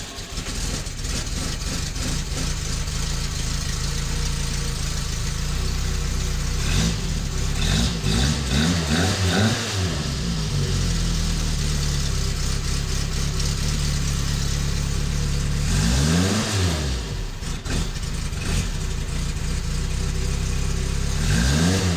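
A 0.9-liter engine in a 1972 Fiat 850 runs steadily at idle, then is revved twice in rising and falling bursts, loud and close throughout with no talk.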